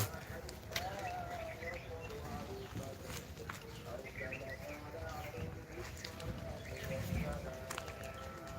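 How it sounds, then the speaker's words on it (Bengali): Birds call and chirp in a plum orchard, scattered short calls over a steady outdoor background with faint voices. "পাখি চিল্লা চিল্লি শব্দ"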